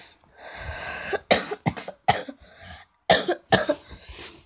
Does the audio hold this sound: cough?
yes